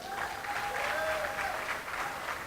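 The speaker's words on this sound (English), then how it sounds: "So give him a round of applause." Faint, distant applause from an audience at an opening ceremony, a soft continuous patter of clapping lasting a couple of seconds.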